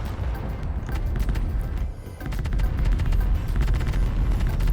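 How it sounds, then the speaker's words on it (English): Battleship cannon turrets fire in the Space Engineers video game, a dense, continuous barrage of heavy booming shots with rapid cracks layered over a deep low rumble, loud and sustained with one brief dip partway through. "Cannons are opening up"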